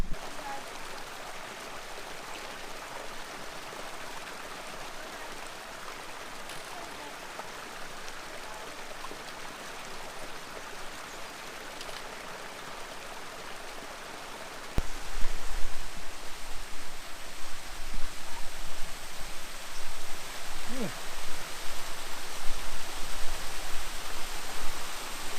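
Hen Hole waterfalls on the Cheviot, a steady rushing hiss of falling water heard from a distance, growing louder and fuller partway through, with no talking.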